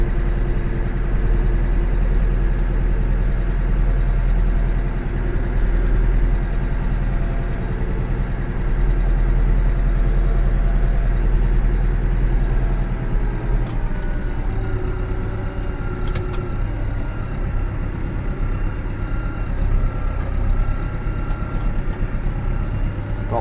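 A 1970s tractor pulls a matching 1970s trailer along a bumpy field road, its engine droning steadily and loudly throughout with a low rumble and no voices.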